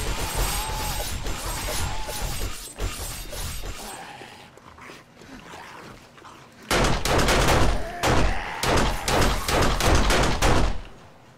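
Gunfire in 7 Days to Die, bursts of rapid sharp shots in two clusters separated by a quieter stretch, loud and close.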